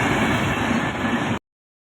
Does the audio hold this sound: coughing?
no